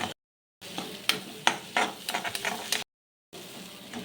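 Egg being stirred and fried in a pan with spice powders for Kerala-style egg thoran, close scraping strokes over a crackling sizzle, broken by two short silent gaps.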